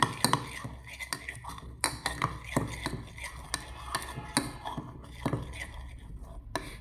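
Pomegranate peel powder paste is stirred with raw milk in a bowl, making soft scraping and clinking strokes at an irregular, close rhythm. Quiet speech runs underneath.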